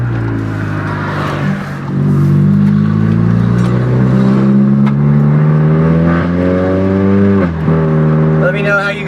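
A car with a gutted, droney exhaust revving hard, the engine note climbing steadily over several seconds, dipping briefly, then climbing again, loud and close with a heavy low drone throughout.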